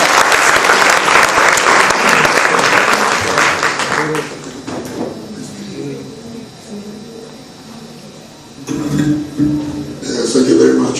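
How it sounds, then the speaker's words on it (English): A conference audience in a senate hall gives a loud round of applause that holds for about four seconds and then fades, followed by someone speaking into a microphone. "Huge round of applause, guys."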